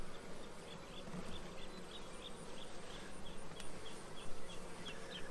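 Honey bees swarm around an open eight-frame hive during a mid-July inspection, making a steady, dense buzzing drone close by with faint clicks and ticks scattered through it. No voices are heard.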